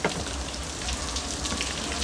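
Steady rain falls on an outdoor surface, a dense, even hiss of drops with no pauses and no voices.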